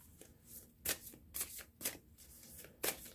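A deck of tarot cards is shuffled in several quick riffling bursts, close and fairly soft, with brief pauses between each shuffle.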